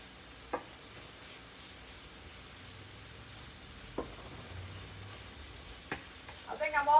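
Hamburger meat frying in a pan for chili gives a steady low sizzle throughout, broken by a few sharp clinks of a utensil against the pan and a brief scraping stir near the end.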